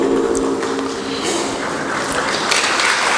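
Audience applause for a film production team at a plenary session, a steady dense wash of clapping filling the room throughout, loud and continuous with no speech on top.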